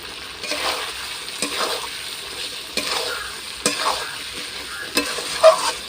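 Chicken sautés in a hot pan with a soft, steady sizzle, while a spatula scrapes and stirs in repeated sharp strokes about once a second, close by.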